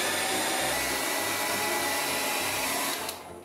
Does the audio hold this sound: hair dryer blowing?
yes